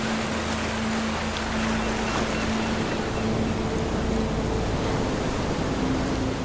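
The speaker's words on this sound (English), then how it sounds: "listening to the roaring ocean waves" Roaring ocean waves pound a dramatic natural coastline, a dense, steady wash of noise lasting the whole time, with a faint low droning tone running underneath.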